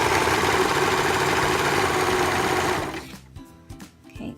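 A sewing machine runs steadily, stitching elastic onto the fabric of ruffled leggings, a dense continuous whir for about three seconds before it stops, leaving faint handling noises.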